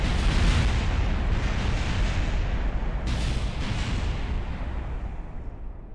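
Heavy video-game explosions in Kerbal Space Program rumble and boom in a dense, continuous barrage, loud and deep, with a sharp burst midway before the roar fades.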